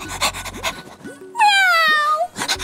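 A woman imitates a dog's rapid panting with her voice, a short burst of quick, close, breathy huffs followed by a drawn-out whining tone, with a few other vocal sounds around it.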